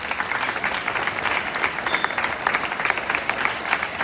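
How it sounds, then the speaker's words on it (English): Students and guests at a youth parliament session in Tenali give a big, steady round of applause, dense and even throughout the few seconds with no speech over it. "Give a big hand clap."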